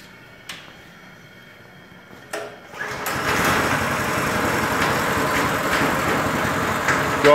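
A topsoil screener engine cranks up from quiet, with a couple of sharp knocks before it catches, then roars steadily at high RPM, loud and close.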